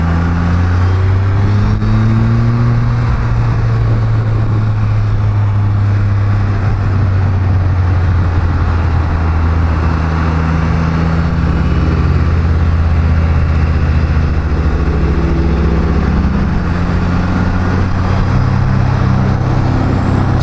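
A Can-Am Spyder F3 S three-wheeled motorcycle cruising at 60 km/h in third gear, its engine a loud, steady, close drone that shifts pitch slightly, with wind rushing throughout.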